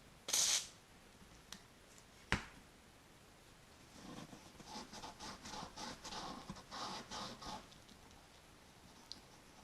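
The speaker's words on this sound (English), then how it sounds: "So I'll get some steel wool, put a bit of WD-40 in there. I'll give it a little rub round." Steel wool soaked with WD-40 rubbed around a small engine's vent channel, giving faint, rhythmic scratchy strokes after a couple of sharp clicks, close and quiet.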